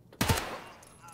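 Gunfire from a first-person shooter video game, fired through a wall, heard as a quick loud burst of shots that rings out and fades over about a second.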